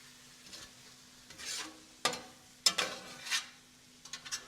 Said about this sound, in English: It's going to take about a minute to cook the flour. Just stir it a little bit here.